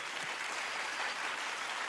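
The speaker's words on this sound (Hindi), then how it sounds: "मैं चाहता हूँ कि जगजीत जी के लिए जोरदार तालियां हो जाएं एक बार" Audience applause offered as a tribute at a comedy award show, a steady broadband wash of clapping from a crowd that holds evenly throughout without any talk over it.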